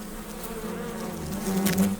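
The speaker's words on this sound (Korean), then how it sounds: "장수말벌은 이 숲에 살고 있는 벌들 가운데 가장 덩치가 크고 사나운 놈이다." Asian giant hornets buzz around their nest in a fallen old tree in a forest, a close, steady drone that grows louder toward the end, with no talking.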